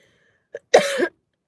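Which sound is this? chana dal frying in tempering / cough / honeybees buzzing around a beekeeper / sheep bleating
cough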